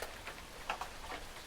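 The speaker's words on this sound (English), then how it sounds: "it's starting to rain. You're going to probably hear a bunch of banging." Heavy rain falling as a few huge, sparse drops strike a hard surface, giving irregular sharp knocks and taps over a soft steady patter, close and fairly quiet.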